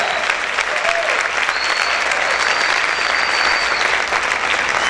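A church congregation applauds loudly and continuously in praise, a thick wash of many hands clapping throughout, with faint tonal sounds and crowd murmur mixed beneath.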